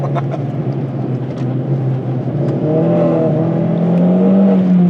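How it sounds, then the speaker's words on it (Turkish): Opel Corsa OPC hot hatch engine revving continuously and loudly up close, the drone climbing in pitch toward the end, with faint popping crackles from the exhaust scattered through it. "Doldurduğunuz zaman patlatıyor egzozu."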